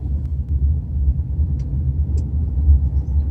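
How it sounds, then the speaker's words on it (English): A car engine rumbles steadily while driving, a low, continuous drone with road noise, close and loud throughout. "So I'm just going to move my car somewhere that's not in the way"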